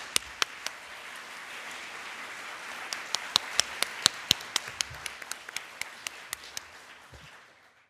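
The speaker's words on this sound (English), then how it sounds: "And with that, let's give Teresa another big round of applause, and thank you all." Scattered applause from a small audience at an annual meeting session, a wash of clapping with distinct individual claps standing out, tapering off at the end.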